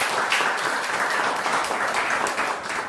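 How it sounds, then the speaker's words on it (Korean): A church congregation at a Sunday morning service claps in a steady, full round of applause for a departing missionary pastor and his wife, dense and continuous throughout. "우리 박수로 또 축복해 주셨으면 좋겠습니다"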